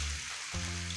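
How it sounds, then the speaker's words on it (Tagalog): Seafood sautés in a hot pan with a steady, close hiss, alone and without talk, over about a second. "So, una ko palang ginigisa itong seafood natin,"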